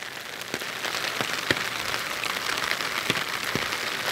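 Rain patters on a flooded street in São Vicente as a close, steady wash with scattered sharp drop hits popping out every second or so, no voices.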